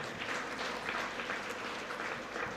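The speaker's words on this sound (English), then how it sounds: "Clap karo na yaar" Audience applause at a Brahmo Samaj conference session, a steady wash of many hands clapping at moderate distance, continuous for the whole span with no voices over it.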